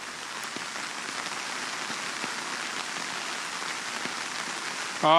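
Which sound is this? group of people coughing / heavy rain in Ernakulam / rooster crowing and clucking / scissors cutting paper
heavy rain in Ernakulam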